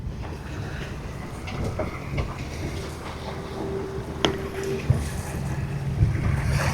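Sailboat moving through a channel off the coast of Maine, with a steady wash of wind and water around the hull, a few soft knocks and creaks, and no voices.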